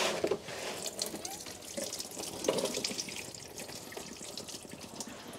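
Diesel trickles and drips from the removed fuel filter of a 1994 Land Rover Defender 2.5 Tdi into a drain pan, a close, steady liquid pour with scattered small splashes and no talk.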